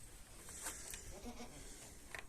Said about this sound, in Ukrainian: Це наші кози відпочивають.